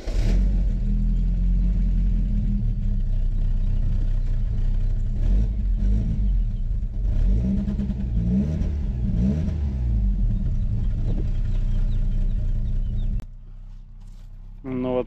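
Car engine started after sitting through winter, with a steady loud low rumble and idle that runs continuously, then cuts off sharply near the end; a voice talks briefly over it.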